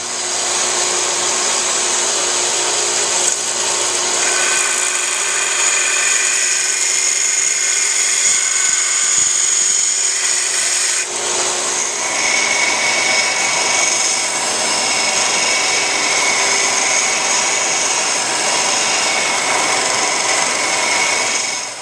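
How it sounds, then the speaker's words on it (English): A grinder whines steadily and loudly while grinding down the shoulder and tapering the tang of a steel combat knife blade, with slight pitch shifts as the workpiece presses against it and no talk. "I have ground down the shoulder just a little bit on either side and taken that taper all the way down the tang"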